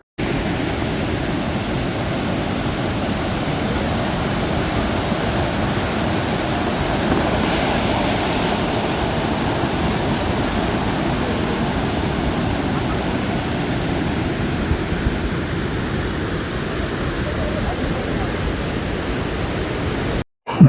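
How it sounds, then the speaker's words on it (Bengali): Bhatinda waterfall in Dhanbad pours down forcefully, a loud, continuous broadband roar of rushing water that holds steady throughout with no pauses. "আমার পিছনেই আপনারা দেখতে পাচ্ছেন এই জলধারা প্রবল বেগে একেবারে নিচে পড়ছে"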